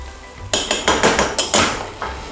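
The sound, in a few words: grating garlic straight into soup pot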